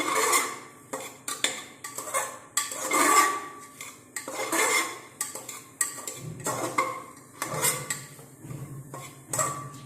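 Ghugni being stirred and fried in a pot without oil, a spoon repeatedly scraping and clanking against the metal in an irregular rhythm, close and clear with no talk.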